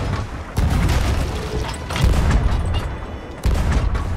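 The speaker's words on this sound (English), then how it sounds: "Hey, he's shooting us." Heavy cannon blasts from a pirate ship in a video game boom out in a loud volley, with fresh bursts near the start, middle and end rolling into a dense, rumbling barrage.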